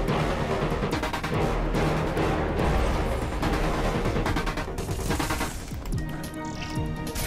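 Dense rapid gunfire fills a Remember Me game fight, loud sustained bursts and volleys layered over music and chaotic effects, with no pause across the stretch.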